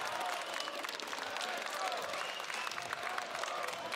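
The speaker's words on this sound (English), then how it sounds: "Might hear some clapping in the background. That's the crowd giving out some love over to Paravision" A crowd at the StarLadder Budapest Major 2025 Counter-Strike event claps in a dense, continuous wash of applause, heard faint and distant throughout.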